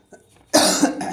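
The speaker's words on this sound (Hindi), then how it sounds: "चलिए थोड़ा खांसी हो गया" A single close, harsh cough after a brief near-silence.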